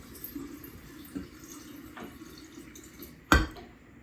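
Water being poured into a vessel while making peach mead, faint trickling and dripping indoors, ending in a brief louder splash near the end, with no talking.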